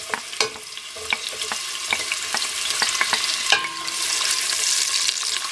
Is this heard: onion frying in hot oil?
yes